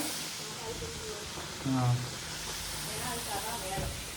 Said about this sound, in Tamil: சோறு இப்படி பொங்கிட்டு வருது